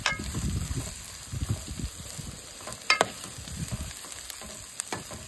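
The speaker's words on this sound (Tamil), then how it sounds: "நம்ம இப்போ வந்து வெங்காயத்தை வதக்க போகிறோம்" Onions sautéing in plenty of oil for a dry vanjaram fish sambal, a steady low sizzle and crackle with occasional stirring scrapes, close and moderately loud, no talk.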